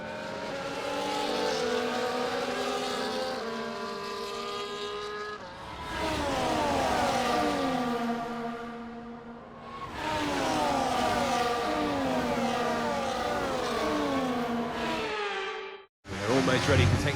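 Race car engines from the F1 24 video game during a formation lap at Monaco, a sustained loud multi-car whine with rising and falling revs, a brief dip near the end, then resuming.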